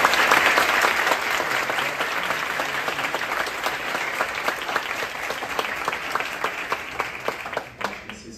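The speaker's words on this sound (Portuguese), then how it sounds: "eu queria pedir uma salva de palmas para o Bruno" Audience applause for a speaker at a financial market week event, a sustained roomful of clapping that stays strong for about eight seconds before stopping abruptly.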